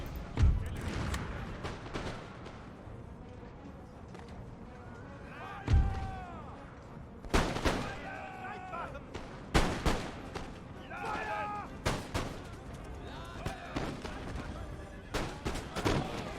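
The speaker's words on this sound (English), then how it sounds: "Just keep blasting the Sig Musketeers there." Musket volleys and cannon fire crack out in the Empire: Total War strategy game, with Prussian-era line infantry trading fire; sharp bursts and booms arrive irregularly, some clustered, against a quieter battlefield bed.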